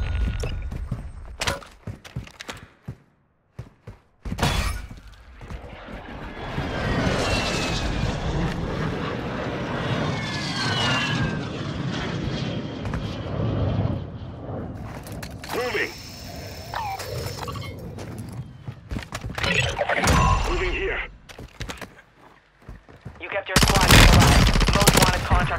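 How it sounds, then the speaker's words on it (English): Aircraft roaring overhead and bursts of machine-gun fire from a Frenzy airstrike in the video game Plunder, loud and dense through the middle stretch with sharp shots and a voice talking at times. "Frenzy airstrike is very low."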